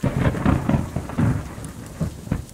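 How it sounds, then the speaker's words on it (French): Thunderstorm with rain pattering on a canvas tent, heavy steady rainfall broken by several rumbling thunder swells, close and fairly loud with no voices. "La pluie se mit à tomber, emplissant la scène de son bruit caractéristique."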